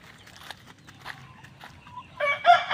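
Farmyard chickens, grown from small chicks, cluck and scratch around close by, then a rooster breaks into a loud crow at the end.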